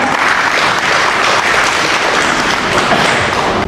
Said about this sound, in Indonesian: Itu tepuk tangan dulu untuk kita semua.